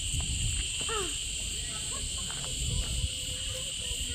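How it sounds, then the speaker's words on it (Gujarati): Crickets chirp in a dry forest, a steady high shrill trill that runs unbroken throughout, with faint scattered rustles and distant sounds underneath. "તમરાનો અવાજ આવે."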